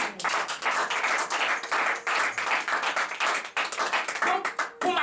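A church congregation claps and applauds during a Sunday service, with dense overlapping hand claps coming in rhythmic surges, and voices mixed faintly underneath.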